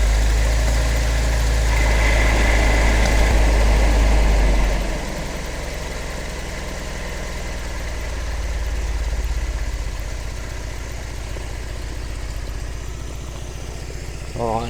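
A Triumph TR7 engine idles steadily after a timing adjustment, a low rumbling hum heard close by. The engine is louder for the first few seconds, then settles.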